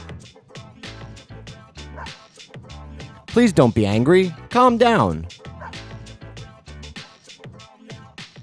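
Dog barking and whimpering in the video game Persona 3 FES: a loud burst of excited barks and whines in the middle, with someone talking over the quieter parts before and after.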